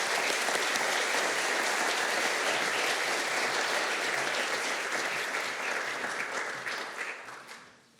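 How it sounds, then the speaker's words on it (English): Applause at a school prize giving, a sustained wash of clapping from a seated crowd that holds steady for several seconds before thinning and trailing off at the end. "Let us give her a round of applause"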